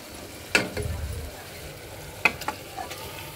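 A spoon stirs mutton curry masala with ginger-garlic paste and whole garam masala in a pot, giving two sharp clinks against the metal over a soft background sizzle, with quieter scraping between.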